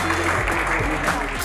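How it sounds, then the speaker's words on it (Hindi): Brief burst of audience clapping at a poetry recital on stage, loud and continuous with a low musical hum underneath. "जोरदार तालियों से इस्तकबाल कीजिए"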